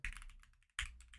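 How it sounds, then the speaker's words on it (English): Quick bursts of computer keyboard typing, close and crisp, with a brief pause before another flurry of keystrokes. "I'll type these."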